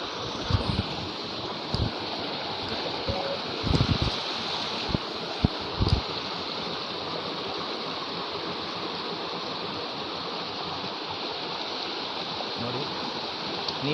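Steady rushing mountain stream water from a waterfall between Agumbe and Sringeri flows continuously at moderate loudness, a broad hiss with occasional low thumps and knocks near the start.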